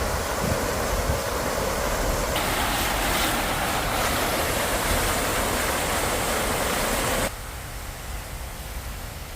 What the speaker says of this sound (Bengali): এই সেই পানির ঝর্ণা, পানির ফোয়ারা,